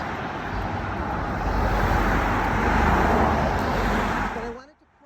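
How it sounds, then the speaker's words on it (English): Loud, continuous roar of road traffic close by, a dense wash of engine and tire noise that cuts off abruptly at the end, outside Mystic Seaport Museum. "Of course, it's loud because there's traffic."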